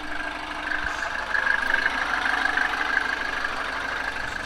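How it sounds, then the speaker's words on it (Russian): A warmed-up turbocharged Mercedes W123 with an OM 615 engine idles at a steady, even hum with a soft whine, moderately close and running alone with no talk. "Заодно сейчас вот как работает двигатель."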